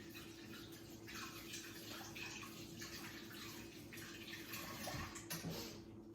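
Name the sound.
washing hands under running tap water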